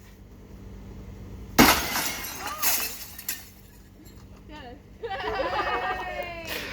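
A rock smashes through a double-pane window, giving one sharp, loud shatter followed by scattered tinkling of falling glass, with people talking and chuckling nearby.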